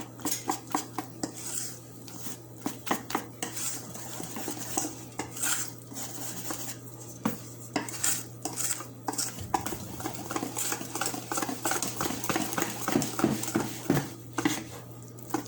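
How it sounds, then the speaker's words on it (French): Chocolate cake batter being gently folded and stirred in a bowl, with soft scraping and light clinks of a utensil against the dish repeating steadily and close by, no voices. "je l'introduis à ma pâte délicatement"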